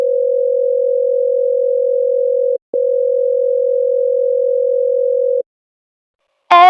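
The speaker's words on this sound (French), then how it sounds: "faut que j'appelle Alicia" A telephone dial tone sounds while a call is placed in Roblox Brookhaven: a loud, steady single-pitched tone that breaks briefly, resumes, then stops, followed by a short burst of another sound at the end.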